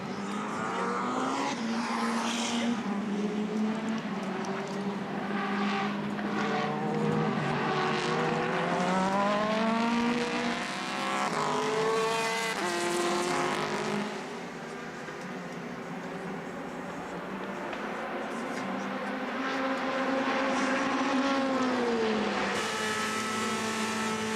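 Aston Martin and Ferrari race cars at the 24 Hours of Le Mans race past with loud engines whose pitch rises and falls through the gear changes, one car fading as another follows close behind.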